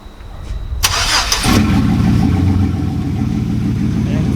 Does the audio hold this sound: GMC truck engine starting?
yes